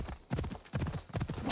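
Horse hooves pound in a steady gallop rhythm in the Assassin's Creed Odyssey video game, the clip-clop coming in loud grouped bursts with brief gaps between them.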